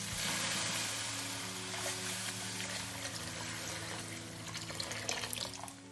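Water pouring into a pot of Kerala-style rasam holding tamarind water, tomato and curry leaves, a continuous close splashing gush that fades near the end, with no voices.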